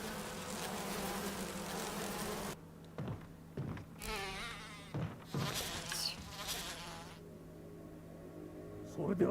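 Insects droning and buzzing inside a giant hive in Resident Evil 1, a continuous swarm hum that drops away and returns amid sharp game effects and clattering hits.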